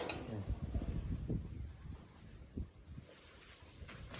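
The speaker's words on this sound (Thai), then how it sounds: "ลมแรงลมแรง" Strong wind buffets the microphone in loud rumbling gusts, rising and falling, with faint voices underneath.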